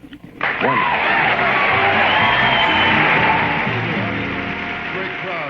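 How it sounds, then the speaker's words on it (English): Studio audience at a talk radio show cheering, whooping and shouting loudly and continuously after a sudden onset, sustained at full strength before easing slightly toward the end. "Great crowd."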